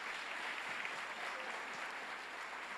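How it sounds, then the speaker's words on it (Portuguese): A church congregation applauds during a sermon on family unity, a faint, distant, steady patter of many hands clapping with no voices over it and a low hum beneath. "Uma salva de palmas."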